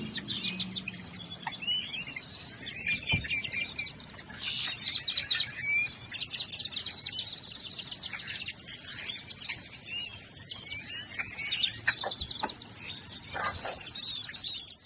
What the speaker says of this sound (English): walking up to my car with all of these crazy birds